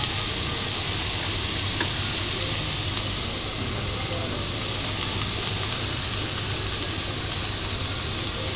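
Crab sautéing in a pan for Chettinad pepper crab gravy sizzles and crackles steadily, with occasional stirring clinks in an even, moderately close frying hiss.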